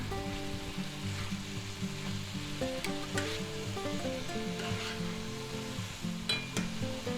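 Chopped yellow onion sizzles in a pan with sausage and peppers, a steady close frying hiss with occasional stirring scrapes and clinks, while faint background music plays along.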